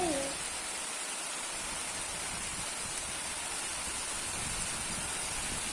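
Heavy wind and rain produce a faint, even hiss that runs unbroken throughout, with a voice heard only briefly at the very start.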